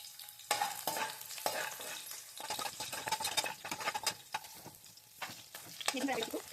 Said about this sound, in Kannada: ಬೆಳ್ಳುಳ್ಳಿ ಈ ಥರ ಕಲರ್ ಬರೋವರೆಗೂ ಸ್ವಲ್ಪ ಫ್ರೈ ಮಾಡ್ಕೊಳ್ಳಿ